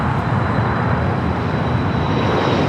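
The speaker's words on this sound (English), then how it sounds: "China Airlines Cargo, flight 5382, heading to Miami, a 777 freighter, lighting up for south side at takeoff" A China Airlines Cargo Boeing 777 freighter rolls for takeoff at LAX, a loud, steady broadband jet roar that holds without a break and with no voices.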